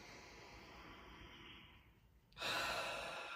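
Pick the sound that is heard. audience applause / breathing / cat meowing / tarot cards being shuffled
breathing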